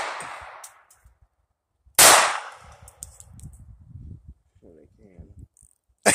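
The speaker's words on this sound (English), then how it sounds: "He's shooting at the bottle" Gunshots fired at a bottle outdoors with a High Point pistol, two sharp loud cracks about two seconds apart and a third at the very end, with people talking quietly in between.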